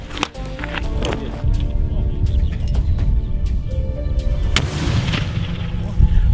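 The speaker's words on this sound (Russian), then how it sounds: "Граната!" A thrown hand grenade explodes during military training, fired from cover at targets in a trench, with a booming blast followed by a rumbling echo and scattered impacts outdoors, while birds and faint voices are heard around it.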